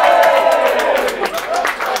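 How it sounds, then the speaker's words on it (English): Audience at a secret gig with Kasabian's Tom Meighan applauds and cheers for Jersey Bud, a dense, steady wash of clapping and crowd noise with voices mixed in throughout. "First and foremost, big round of applause"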